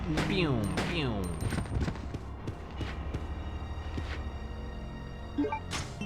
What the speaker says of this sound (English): That's the sound of the Chris cannon.